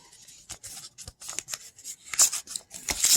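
A gift card envelope being torn and opened by hand, a run of short papery rips and rustles that grow louder and sharper toward the end, close by and with no talking.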